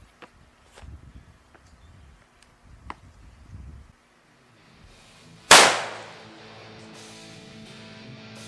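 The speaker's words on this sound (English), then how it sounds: "CVA's bolt action rifle. And this is a 22 inch barrel. And these are really zinging these 55 grainers." A single sharp, loud gunshot from a CVA Cascade bolt-action rifle with a 22-inch barrel firing 55-grain rounds cracks out mid-clip and decays quickly, preceded by quiet outdoor rustling and light footsteps.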